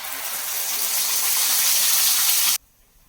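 Ground masala paste fries in hot oil for matar paneer, a steady loud sizzle and hiss that cuts off abruptly into near silence.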